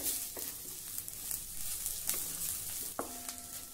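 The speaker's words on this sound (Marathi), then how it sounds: "1 टीस्पून जिरे आणि हे देखील आपल्याला यासोबत व्यवस्थित भाजून घ्यायचं आहे।" Cumin seeds roast with grated coconut, onion and chillies in a dry pan, giving a steady soft sizzle broken by a few scraping stirs of a spatula.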